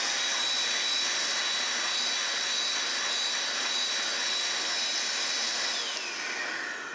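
Compressed air blasts steadily into the cartridge slot of a Mattel Intellivision II console, a loud continuous hiss held close for several seconds without pause.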